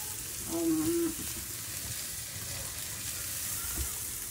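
Onion, egg, broccoli and carrot fry together in a pan, a soft continuous sizzle with faint stirring noises, quiet and close, with no one talking.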